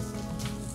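Oil going into a hot pan while cooking jawla, a brief even sizzling hiss, close and steady with a slight swell midway.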